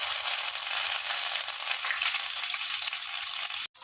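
Curry leaves frying in hot oil for banana chivda, a steady loud sizzle and crackle that runs unbroken, then cuts off abruptly near the end.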